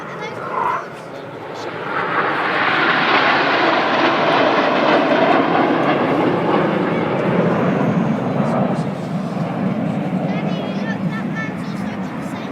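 Red Arrows Hawk jets fly in formation at the Farnborough International Airshow in 2012, their loud engine roar swelling and holding steady as they pass, while an announcer talks over the noise.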